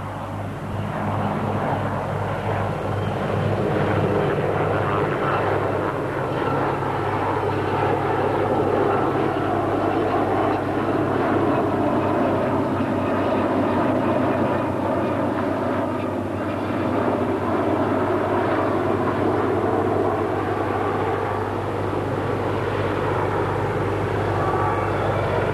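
A formation flypast with a Harrier jump jet alongside other aircraft gives a sustained, loud engine roar that swells and holds for the whole stretch, with no voices over it.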